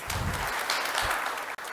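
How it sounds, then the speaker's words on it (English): Audience applause at an international banking conference, a steady wash of clapping from a large room lasting under two seconds with a brief dropout near the end. "May we welcome them with a huge round of applause,"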